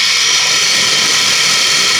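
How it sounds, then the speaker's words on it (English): A blender runs at full speed, blending white flour and morel mushrooms into a slurry, with a loud, steady, close whirring roar that cuts off abruptly at the end. "Put the blade in, put the lid on, and then blend that together to make a slurry."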